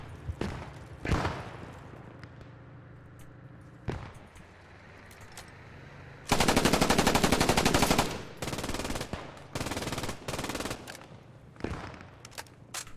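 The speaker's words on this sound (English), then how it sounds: "I'm hearing MGs, I'm hearing enemies, I'm hearing smoke grenades." Machine gun fire in the WWII shooter Post Scriptum, with long loud automatic bursts rattling close by, separated by shorter bursts and scattered single shots and thuds.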